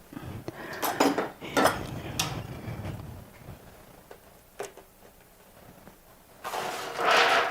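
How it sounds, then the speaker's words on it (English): Potato casserole is stirred in a dish, with a utensil clinking and scraping against the dish in quick irregular bursts, close and fairly clear, with quieter stretches between. "let me mix this up very good"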